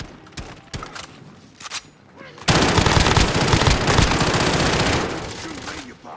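In the video game Call of Duty Warzone, a few scattered shots give way to a loud, sustained burst of automatic gunfire. The burst lasts a few seconds and then tails off.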